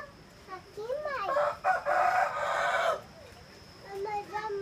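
A rooster crows on a small farm, one loud near cock-a-doodle-doo of about two seconds, with people talking softly around it.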